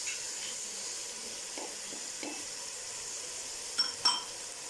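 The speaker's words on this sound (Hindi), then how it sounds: "इसे अच्छी तरह भून लें सालन को" Seekh kabab karahi masala sizzles faintly in a pan with a steady frying hiss, while a spoon scrapes and stirs intermittently and clinks twice against the metal near the end.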